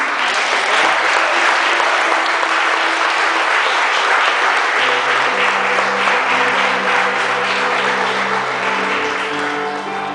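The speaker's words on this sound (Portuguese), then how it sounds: "vamos aplaudir eles" Church congregation applauding during a Sunday missions service, a dense burst of clapping from many hands that fills the room, with sustained instrumental tones rising underneath midway and the clapping slowly tapering.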